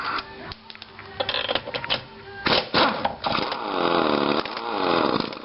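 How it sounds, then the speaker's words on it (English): Pneumatic impact wrench working Corvette wheel lug nuts, with short bursts early on, then a longer sustained whirring run that rises and falls in pitch, close and fairly loud. "You should be able to control your impact wrench"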